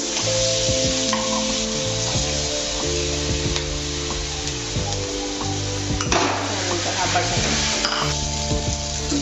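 Finely chopped ginger, garlic and green chili sizzle steadily in a spoonful of hot oil in a pan, with a bright continuous crackle and occasional stirring clinks, close and loud with no talking.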